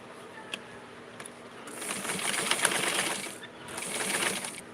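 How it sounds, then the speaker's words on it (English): A sewing machine stitches an inseam on a Simplicity 4422 garment, running in two steady rapid bursts separated by a brief pause, close and clear, preceded by a few light mechanical clicks. "So I'm going to sew it all the way up to here."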